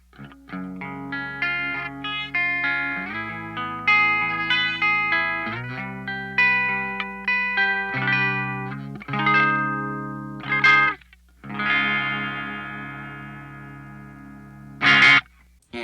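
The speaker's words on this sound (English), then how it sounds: "I did want a clean sound to start off with for this amp" A clean electric guitar plays a series of picked notes and chords through an amp, with bright ringing tones, natural decays and a few louder accents.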